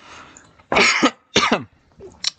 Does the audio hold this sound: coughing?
yes